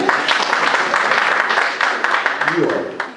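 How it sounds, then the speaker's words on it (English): Applause rises from a church congregation at Morning Star Baptist during a talk on responding to police, steady crowd clapping mixed with voices over a few seconds. "Give him a round of applause again."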